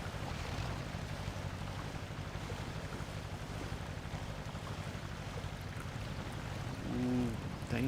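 A small truck churning through deep water in Mudrunner, a steady low sloshing, splashing rumble with engine drone, fairly quiet and continuous, swelling slightly near the end.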